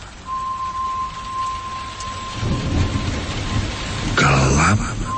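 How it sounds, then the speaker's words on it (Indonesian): Heavy rain pours steadily through the dark night, a constant broadband hiss, with a deep rumble of thunder swelling in the second half and a low rolling crack near the end. "Gelap, ditambah hujan deras sedang turun."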